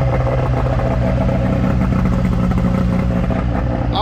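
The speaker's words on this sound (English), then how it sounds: "Man, I love riding snowmobiles." A Ski-Doo snowmobile engine roars loud and close with a steady, continuous drone and rough clatter while being ridden, holding high revs throughout with no talking.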